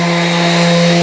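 A power sander works a wooden memorial plaque to remove planer snipe, giving a loud, steady motor whine with a strong buzzing tone, close and uninterrupted.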